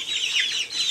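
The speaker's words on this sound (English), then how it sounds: "chick noises in the background. We have our chicken brooders in this room as well." Young chicks in indoor chicken brooders peep continuously in a shrill, high-pitched chorus, steady and fairly close.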